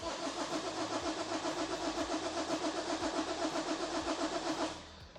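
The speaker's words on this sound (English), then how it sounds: "So you can crank, but it's not gonna start whatever you do" A Toyota engine cranks steadily without catching, a fast rhythmic whirring churn of the starter that holds close and loud for about five seconds before cutting off abruptly, no voices over it.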